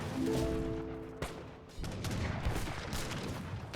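Mortar and artillery fire in a real-time strategy game, dense overlapping thuds and booms rolling continuously across the scene, with a sharper impact partway through.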